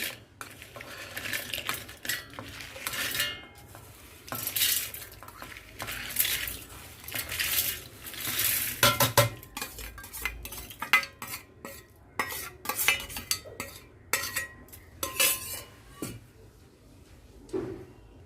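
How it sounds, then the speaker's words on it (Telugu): A kitchen mixer grinder crushes cooled fried curry leaves, dried red chillies and lentils, giving loud, rough bursts of rattling and churning in pulses over about eighteen seconds, with no talk. "మిక్సీలో వేస్తున్నాను."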